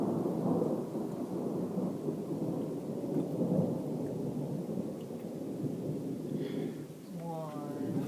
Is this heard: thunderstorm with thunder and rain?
yes